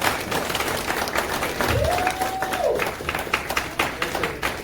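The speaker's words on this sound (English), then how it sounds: "Could you please give a round of applause for him?" An audience applauds at a 2024 NDC Atlanta strategy session, a steady wash of many hands clapping with some crowd noise and a brief whistle-like tone in the middle.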